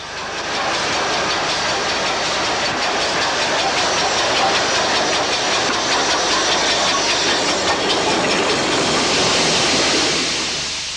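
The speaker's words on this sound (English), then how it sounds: "The next stopping train is worked by a less than steam tight Ivat 260," An Ivatt 2-6-0 steam locomotive, leaking steam, hauls an up local stopping train past at close range, a loud, continuous rumble and hiss with faint rail clatter that swells and holds for the whole stretch.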